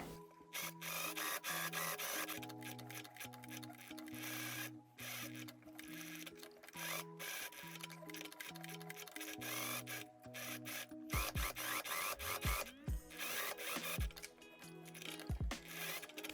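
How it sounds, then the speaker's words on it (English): A sewing machine top stitches around a tailored jacket lapel at 5 millimeters, its rapid mechanical whirring running in bursts with short pauses, close but quiet, with fabric handling rustles and no talking. "I'm gonna go around the whole thing and top stitch everything at 5 millimeters"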